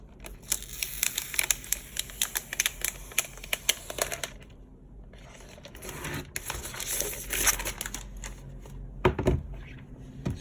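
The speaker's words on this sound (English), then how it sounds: "So let's peel off the tape." Tape being peeled off the box of a 2018 MacBook Pro 15-inch, a series of close crinkling, ripping pulls in irregular bursts with short pauses between.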